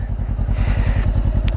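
Honda CBR500R, 2016, fitted with an Akrapovic exhaust, idling with a steady low pulsing burble and a few sharp crackles and pops near the end, close and loud.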